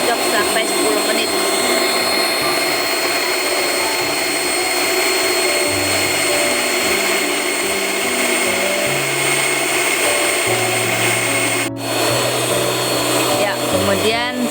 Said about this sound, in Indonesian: Ini butter mixnya dengan gula dikocok sampai 10 menit